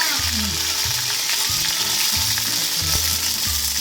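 Fenugreek seeds, curry leaves and green chilli fry in hot oil, giving a steady close broadband sizzle throughout with a repeated mechanical ratcheting clatter running underneath; there is no talking.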